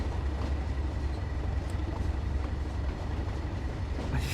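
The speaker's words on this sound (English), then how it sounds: "There's our train, class 37." A Class 37 diesel train in the Train Sim World game on the Tees Valley line, a loud steady low engine rumble with rolling rail noise and faint clicks, continuous and close.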